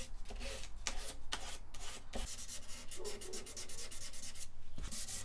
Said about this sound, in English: You just want to scuff the surface